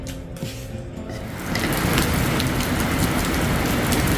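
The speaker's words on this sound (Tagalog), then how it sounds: "bigla pong lumakas ang ulan" Heavy rain falls steadily, then about halfway through suddenly intensifies into a loud, dense roar of downpour pounding surfaces nearby.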